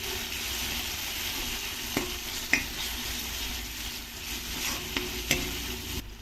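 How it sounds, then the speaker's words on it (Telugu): Ginger garlic paste fries in a pan for ridge gourd curry, giving a continuous soft sizzle with a few distinct spoon taps and scrapes against the pan and no talking. "ఇప్పుడు ఇందులో కొద్దిగా అల్లం వెల్లుల్లి పేస్ట్ వేసుకొని ఈ అల్లం వెల్లుల్లి పచ్చివాసన పోయే వరకు వేయించుకోవాలి"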